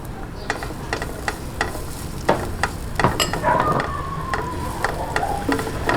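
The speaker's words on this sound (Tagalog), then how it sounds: "umpisahan na po natin yung paggigisa. Lagay po natin ang bawang" Garlic sautéing in oil in a pan for a stovetop lasagna, a close, steady sizzle broken by regular scraping stirs of a utensil against the pan, with no talk.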